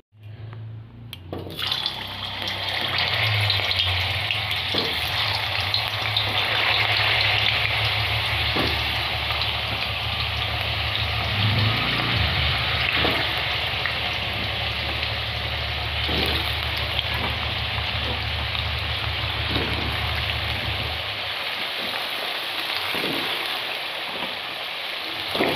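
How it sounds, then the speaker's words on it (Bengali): Potatoes fry in hot oil in a wok, giving a loud, steady sizzle like rushing water that runs unbroken for about twenty seconds, with a low hum underneath that fades out near the end. "প্রথমে আমি আলুগুলোকে ফ্রাই করে নেব।"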